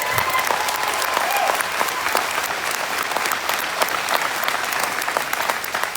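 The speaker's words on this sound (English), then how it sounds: "I think these kids deserve a loud round of applause for their efforts." A crowd at the Arizona National livestock show grand drive gives a loud, sustained round of applause, dense and even throughout, with no speech.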